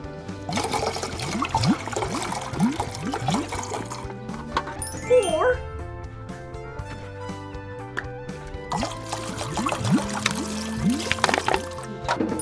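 Water being poured for tie dyeing, a steady splashing and trickling flow that runs throughout with gurgling and dripping, set against a musical backing.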